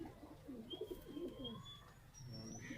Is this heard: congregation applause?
no